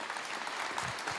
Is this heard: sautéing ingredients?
no